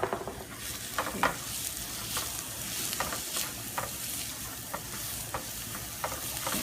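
Onions, preferably sweet Vidalia, sizzling steadily as they saute in a pan, with a spoon now and then stirring and scraping against the metal. The frying is close and continuous, with no voices.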